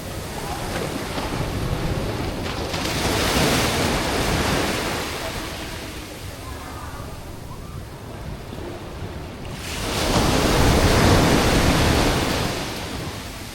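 Ocean surf washes steadily at Batu Karas beach, a broad continuous roar with two louder swells as waves break and rush in, wind noise on the mic and no talk.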